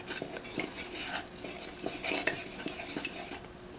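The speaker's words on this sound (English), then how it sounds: "So make it a really good stir." Herbs stirred into melted candle wax, a run of close, rhythmic scraping and clinking strokes of a utensil against the container with a faint sizzle beneath, no voices.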